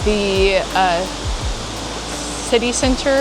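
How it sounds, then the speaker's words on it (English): Shifen Waterfall near New Taipei City, Taiwan, roars as a steady, broad rush of falling water beneath someone talking close up. "Made it to Shifen Waterfall, which you can see right behind me."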